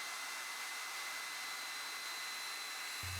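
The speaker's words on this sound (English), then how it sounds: "We keep a hairdryer handy to dry off the grip tape quickly." A hairdryer blows steadily on wet skateboard grip tape, a constant whirring hiss with a faint high whine, then cuts off abruptly at the end.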